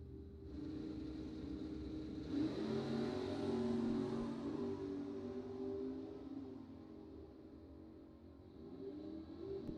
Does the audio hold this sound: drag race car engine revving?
yes